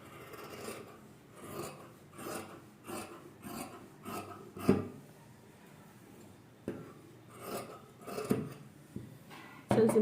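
Scissors snip through blouse sleeve fabric in a run of short, close, rasping cuts, pausing midway before a few more quick snips, with no voices.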